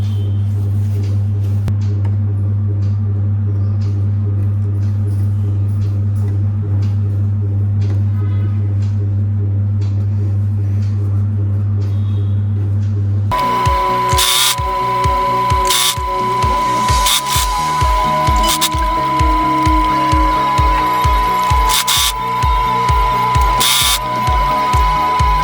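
A sewing machine stitches fabric at the neckline of a peplum top, first a steady motor hum, then fast rhythmic mechanical clatter of the needle running continuously and loud up close.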